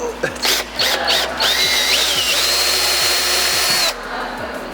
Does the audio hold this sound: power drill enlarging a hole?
yes